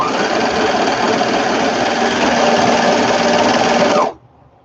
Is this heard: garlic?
no